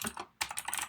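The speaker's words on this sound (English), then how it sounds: "typing is bad today, isn't it?" Quick, light clicking of typing on a computer keyboard, soft and close, with a brief pause in the middle of the short burst.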